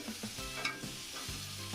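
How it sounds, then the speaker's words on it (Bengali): Eggplant fries lightly in oil in a pan with a soft, continuous sizzle and some stirring, alongside a faint tonal hum in the background. "বেগুনটা এভাবে হালকা করে ভেজে নিচ্ছে"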